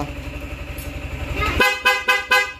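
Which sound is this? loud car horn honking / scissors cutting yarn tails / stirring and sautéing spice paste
loud car horn honking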